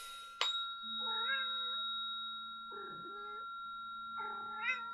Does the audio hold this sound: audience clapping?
no